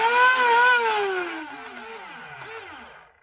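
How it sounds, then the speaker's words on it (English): The electric motor of a Nerf Auto Stryfe blaster, thought to have a stripped gear, whines loudly on battery power and then spins down with a falling pitch, sputtering briefly as it slows. "I hear a motor going in there"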